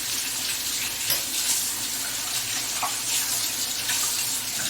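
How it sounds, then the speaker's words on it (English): Water runs steadily from a kitchen sink tap as utensils are rinsed, a continuous close hiss with small clinks and splashes throughout. "I gotta clean my utensils here"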